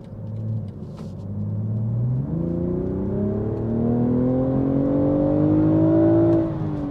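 A 2023 BMW Z4 M40i engine revs up with rising pitch through a long acceleration, a loud throaty exhaust rumble heard from inside, briefly dropping before climbing again.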